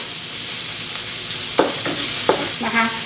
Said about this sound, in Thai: ผัดกระเทียมให้เหลืองหอมค่ะ